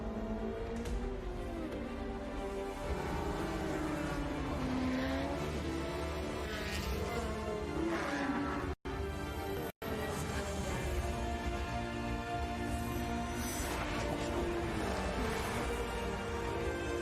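Racing car engines from the video game Project Cars roar and rev continuously, with gear shifts, rising and falling pitch and tire squeals, and two brief dropouts midway.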